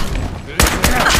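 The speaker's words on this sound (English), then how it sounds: "Another shot!" Gunfire in the video game Fallout, a loud, close shot bursting out partway through after a stretch of game ambience, followed by a second crack and a rumbling tail.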